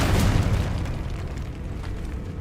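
A Confringo fire spell in the Hogwarts Legacy video game bursts into a loud, rumbling explosion that decays over a couple of seconds.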